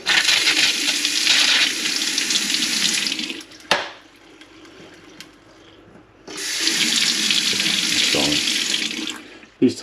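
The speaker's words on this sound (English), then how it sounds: "I'll just turn the water on just to make sure they're all okay." Water taps turned on to test newly fitted tap heads, a loud close rush of running water that stops for a couple of seconds, then gushes again with splashing into a sink.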